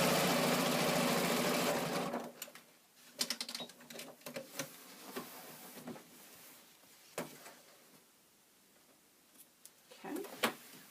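A sewing machine stitches channels on a carryall bag in a loud, steady run for about two seconds, followed by scattered clicks and handling sounds as the fabric is repositioned.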